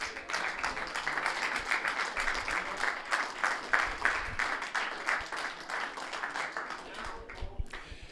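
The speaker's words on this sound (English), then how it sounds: "big round of applause for both finalists, Simon Ward and Neil Raybone" A crowd at a pool tournament final in a hotel claps for the two finalists, dense continuous applause at steady volume that thins out toward the end.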